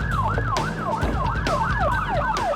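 Loud, close police car siren wailing in fast repeating sweeps during a chase, over rumbling road noise from the moving vehicle.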